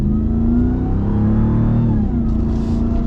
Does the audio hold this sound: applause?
no